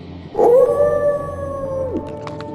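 A long, clear howl of a canine or wolf-like creature in a Spanish-language horror narration, loud and close, rising sharply then holding a steady tone for over a second before dropping away.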